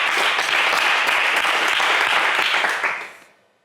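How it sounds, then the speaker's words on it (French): A game show studio audience applauds a contestant after a good answer; a loud, dense burst of clapping lasting about three seconds that quickly dies away to silence. "on vous applaudit"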